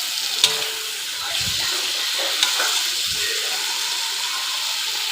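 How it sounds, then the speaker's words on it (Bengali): Ground spice masala is stirred into a drumstick, potato and tomato curry, a steady close sizzle with a couple of sharp clinks from the spoon against the pan. "এবার আমি ভালো করে নাড়িয়ে চাড়িয়ে নেব।"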